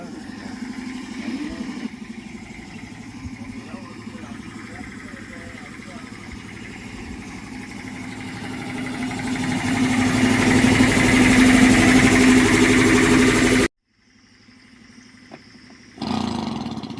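A water pump motor runs with a steady mechanical hum that swells louder midway, then cuts off abruptly into near silence before sound returns, with people talking throughout.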